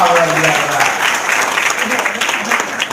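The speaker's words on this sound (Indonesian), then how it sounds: "Ya, tepuk tangan dong." People at a motivational seminar clap loudly together in a sustained burst. A voice can be heard over the noise of the crowd.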